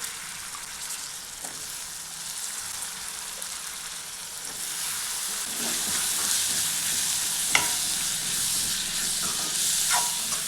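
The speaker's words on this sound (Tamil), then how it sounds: "இந்த டைமில் நம்ம பொடியை நறுக்கி வச்சுருக்க உருளைக்கிழங்கை சேர்த்துக்கலாங்க" Chopped potatoes are stirred into radish leaves frying in a pan; a broad hiss and sizzle swells louder midway, with occasional spatula taps and scrapes, close by and without voices.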